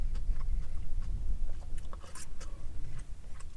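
Close, steady chewing of crunchy fried walleye cooked in rendered lard at an ice-fishing truck camp on Red Lake, with dense wet crunches and bites running throughout, no talking.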